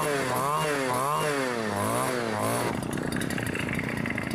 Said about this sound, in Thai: ผมเร่งจนไม่รู้จะเร่งยังไงนะใบมันก็ยังไม่หมุนนะครับ